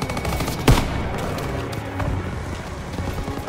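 Machine gun fire from MG nests in a barn in Call of Duty WWII, rapid bursts rattling steadily with a sharp close blast early on, amid battlefield noise.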